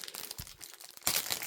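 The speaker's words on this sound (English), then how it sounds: "Open the cellophane." Cellophane wrapping being torn open on a Blu-ray slipcase, close crinkling and crackling in short bursts that swell into a louder rustling tear near the end.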